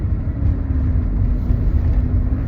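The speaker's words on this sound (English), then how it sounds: "I'm driving, so I gotta keep my eyes on the road" A car drives along a road, giving a steady low engine and tyre rumble that stays even and continuous throughout, with no voices.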